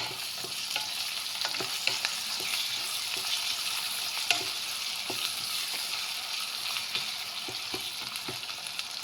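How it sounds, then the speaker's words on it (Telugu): Onions, ginger garlic paste and cashews frying in a pan for egg fried rice, with a continuous sizzle and frequent sharp scraping clicks of a spatula being stirred through, close and steady with no voices. "ఆనియన్స్ కొంచెం ఫ్రై అయ్యాక అల్లం వెల్లుల్లి పేస్ట్ అండ్ జీడిపప్పు వేసానండి."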